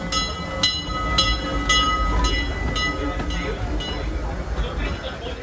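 Disneyland Railroad steam train rolling along the track, with steady rumbling wheel noise and a series of sharp clacks early on, close and moderately loud, with some voice mixed in.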